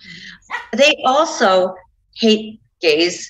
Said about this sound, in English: And I apologize for my dog.